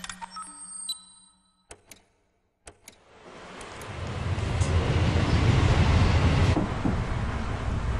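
A Wuhan metro train begins with a few sharp clicks and near-quiet, then a deep rumble swells from about the midpoint and holds steady and loud as the carriage gets under way.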